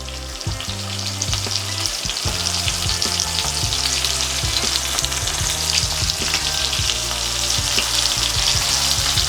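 Chuck steak sears in a hot pot with a steady, close sizzle and crackle, and occasional clinks and scrapes sound throughout.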